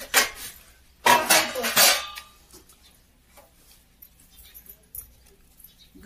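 Dishes and steel utensils being gathered up after a home meal, with sharp clattering bursts near the start, then quieter scattered clinks and light knocks.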